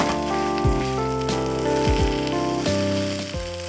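Oil sizzles steadily in a hot pan as a Korean seafood scallion pancake fries, a constant crackling hiss punctuated by a few low thumps, close and moderately loud.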